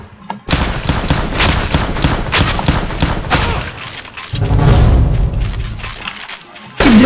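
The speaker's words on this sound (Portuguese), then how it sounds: "eu metralhando o cara com a pistolinha, não matei" Rapid, loud bursts of pistol fire in the Roblox Arsenal video game, shots crowding one after another with heavy thumps throughout.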